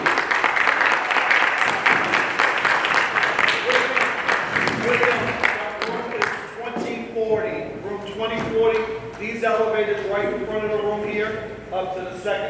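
Audience applause at a MAGA Fest political rally for a congressional candidate, dense clapping in a large room at first that thins into scattered claps while crowd voices and a man's speech take over.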